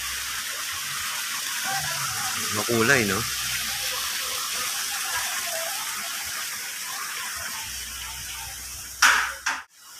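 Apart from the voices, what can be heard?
water flowing in botanical garden pool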